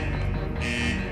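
A security alarm system goes off in a film: a steady, loud electronic buzzing tone that holds without pause.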